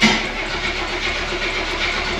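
A 1985 Oldsmobile Cutlass G-body engine churns close and loud, a short steady mechanical grind with a brief burst at the start, no voices over it.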